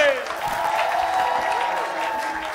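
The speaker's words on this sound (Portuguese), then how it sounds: "Um aplauso, aplauso tá bom." An audience claps in a steady, moderately loud wash of applause, with a voice calling out over it.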